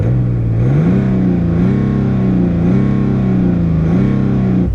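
A BMW 840d diesel engine revs close up and loud, rising and settling in repeated smooth swells of deep throaty drone with no talk over it.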